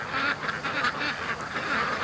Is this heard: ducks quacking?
yes